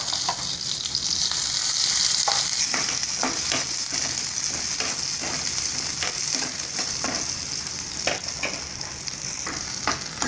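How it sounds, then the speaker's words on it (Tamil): Onion and garlic sauté in hot oil with a loud, continuous sizzle, while a spoon scrapes and stirs the pan at irregular intervals up close, and no voices are heard. "இப்போ சிறிதளவு எண்ணெய் ஊற்றிட்டு அதை நல்லா வணக்கி எடுத்துக்கலாம்."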